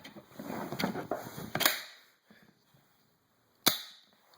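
A rusted Browning Auto 5 shotgun with its barrel removed is cocked and dry-fired, giving a few sharp metallic clacks and snaps, then a single crisp click after a short silence, close and alone.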